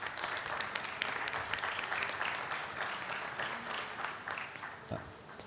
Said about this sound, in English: je pense qu'il mérite un applaudissement